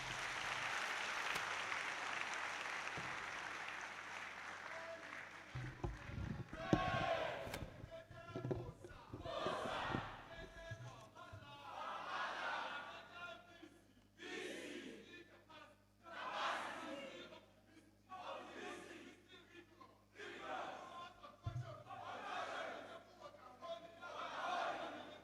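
Crowd applause and cheering at a university pre-convocation lecture at Ahmadu Bello University, for the Vice Chancellor. A faint, distant burst of clapping and cheers opens, then gives way to a series of loud crowd shouts.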